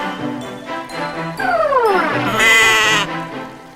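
A goat gives a run of loud, close bleats, wavering cries that rise and fall and stretch into a long quavering call.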